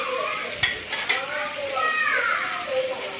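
Ingredients for a fish gravy sauté in a pan, giving a continuous sizzle with occasional stirring knocks, while faint voices sound in the background.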